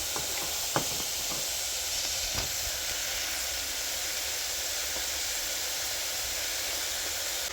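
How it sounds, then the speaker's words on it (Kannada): Tempering sizzling in hot oil in a home kitchen pan, a steady broad hiss running throughout at moderate level, with a few faint clicks and pops over it and no talking. "ಇವಾಗ ಒಗ್ಗರಣೆ ಹಾಕ್ಕೊಡ್ತವ್ರೆ"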